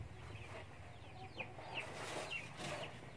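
Chickens clucking around their newly built coop and nesting box: several soft, short clucks and calls scattered over a few seconds, quiet and close, over low background hum.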